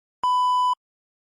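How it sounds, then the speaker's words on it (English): A single clean electronic timer alert beep, steady and mid-pitched, lasting about half a second, then silence. "let's see what the other beep is"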